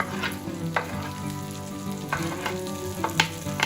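Garlic and onion sauteing in a pan for a Mountain Dew shrimp dish, giving a close, steady sizzle broken by a few sharp scrapes of stirring, with no voices.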